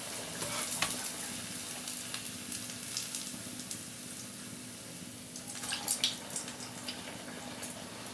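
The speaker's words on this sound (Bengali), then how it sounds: "আর একদম লো ফ্লেমে দিয়ে ভাজতে হবে।" Sesame-coated chicken cutlets fry gently in a pan over a low flame, giving a soft, steady sizzle throughout with a few brief louder crackles.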